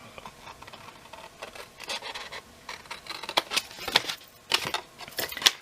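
Cardboard is cut for a candle gift box, with close, scratchy slicing strokes and sharp little clicks that grow louder toward the end, heard alone without talk.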